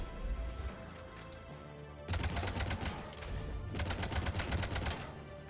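Rifle fire in a video game comes in rapid bursts of sharp, repeated shots. The bursts start abruptly and sit over a steady game soundscape, with no speech.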